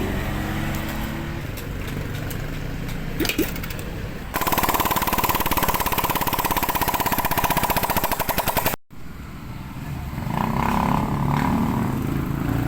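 A Barako 2 motorcycle engine, fitted with a newly installed starter motor, catches after a kick and settles into a loud, rapid, rattling idle, cuts out briefly, then runs again more roughly.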